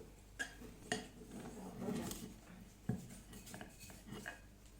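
A spatula stirs and presses dumpling dough in a bowl, giving quiet rubbing and several faint knocks against the bowl's side, heard close in a calm kitchen.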